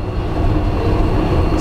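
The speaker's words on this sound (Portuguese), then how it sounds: "esperar passar todo o trem." A train rolls past in a loud, steady rumble with dense rail noise heard from close by, continuous throughout.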